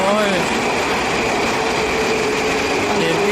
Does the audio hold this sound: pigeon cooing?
no